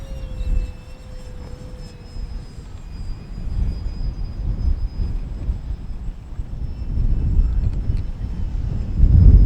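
A HobbyKing Hawker Tempest RC model plane flies outdoors in strong wind, its faint high motor whine drifting overhead beneath continuous heavy wind rumble on the microphone.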